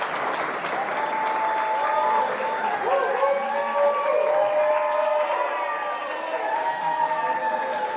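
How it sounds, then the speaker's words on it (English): Steady applause from a crowd at an art exhibit reception fills the whole stretch, dense clapping with a few faint cheers mixed in, continuous and fairly loud. "let's get a big round of applause"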